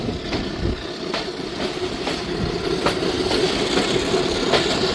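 A diesel-hauled express train, led by an HBU20 locomotive, rolls along the rails at night, with a continuous rumble, rhythmic clickety-clack of wheels over joints, and faint metallic squeals, steady and fairly loud from on board.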